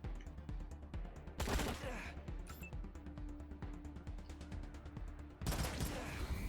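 SMG and automatic rifle fire in Wasteland 3 rattles in rapid bursts of sharp shots, with two louder volleys standing out against quieter continuous firing, heard fairly faintly with no talk.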